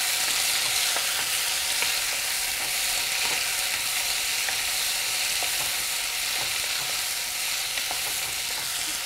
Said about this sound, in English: Now we're going to add the tomatoes into it.